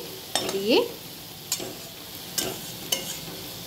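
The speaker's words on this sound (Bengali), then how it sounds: "তাই একটু নাড়াচাড়া করে নেব মশলার সঙ্গে" Boiled potatoes are stirred with spices in a pan under a low background sizzle. A few sharp scrapes and clinks of the utensil against the pan come at intervals, and there are no voices.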